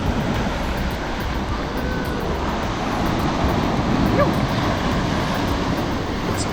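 Surf washing ashore at Chinamans Beach, Agnes Waters, a steady broadband roar of waves with some wind noise, continuous and fairly loud with no distinct breaks.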